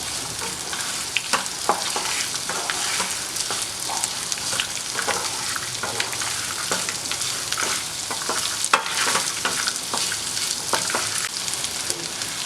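Garlic frying in oil with onion in a pan for a spicy hotel-style chutney: a continuous close sizzle with scattered spatula scrapes and stirring clicks throughout, no voices.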